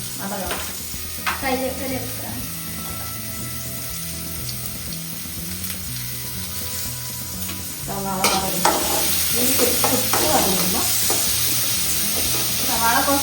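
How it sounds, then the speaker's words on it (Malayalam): Onions and carrots sautéing in a pan at home, a steady close sizzle with stirring scrapes throughout that grows louder and busier in the second half, with a constant background hum. "സവാള കുറച്ച് വതകണം"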